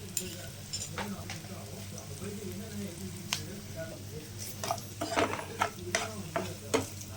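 Quail pepper fry sizzles steadily in a pan while being stirred, with a continuous frying hiss broken by scraping stir strokes that grow more frequent toward the end; a voice can be heard faintly in the background.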